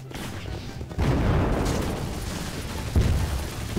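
A gunfire battle in Garry's Mod, heard as dense, continuous rattling shots and booms at a steady loud level, with no voices.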